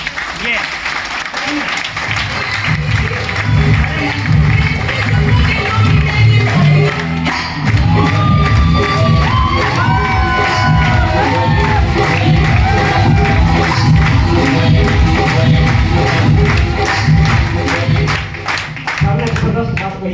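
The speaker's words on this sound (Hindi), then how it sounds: "हमारे गुरु श्री संजीव सर के लिए एक बार जबरदस्त तालियां।" An indoor training audience bursts into dense, sustained applause mixed with cheering and whistles for their trainer, loud and continuous throughout, with voices shouting over the clapping.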